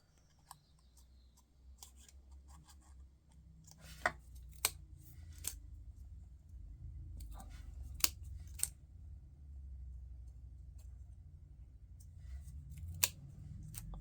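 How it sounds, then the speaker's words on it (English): Fringe scissors snip through cardstock during a paper craft project, a few sharp, quiet cuts spaced apart over a low, steady room rumble. "These are called fringe scissors."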